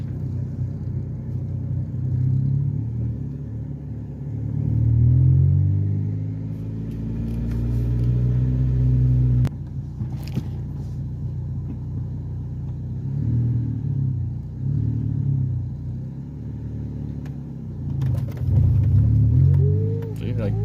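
A car engine in a manual-transmission car hums and rumbles low while driving, rising and falling with gear changes and acceleration, steady and close throughout.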